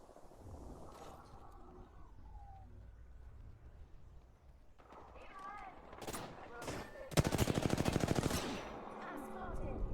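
Video game gunfire in a multiplayer shooter: scattered shots build into a loud, dense burst of rapid automatic fire near the end, over steady background game noise and faint voice chat.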